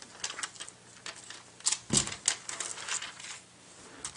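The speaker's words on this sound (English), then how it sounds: "Now taking a look at the Kindle itself, again it's wrapped in plastic. So I'm just going to take the plastic off." Plastic wrap crinkles and crackles as it is peeled off an Amazon Kindle 3, in soft irregular rustles with a few sharper snaps up close. No voice is heard.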